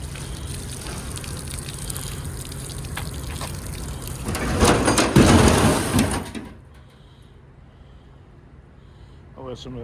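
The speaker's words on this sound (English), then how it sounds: "I'll let some of that water out." Water gushes out of a tank on a scrap-iron-laden truck in a loud rushing burst that swells for a few seconds and then cuts off, with a voice speaking briefly afterward.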